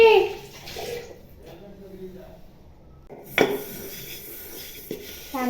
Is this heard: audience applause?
no